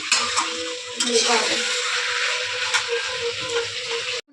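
Chicken frying in a pan while being stirred, a loud, dense sizzle running throughout with occasional scraping stirs and light clinks, close up and steady.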